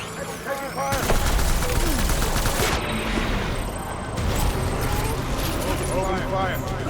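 WWII battlefield gunfire in the game Death Stranding, dense overlapping rifle and machine-gun bursts with distant blasts forming a continuous loud fusillade, with voices shouting through it.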